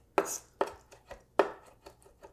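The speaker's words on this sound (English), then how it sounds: "I think that like chopping it and giving it a little smash like this, almost like purees it, but you're doing it with a knife." Knife chopping and smashing mushrooms or greens on a cutting board while cooking a cast iron steak dinner: three sharp close thuds followed by several lighter taps in an uneven rhythm.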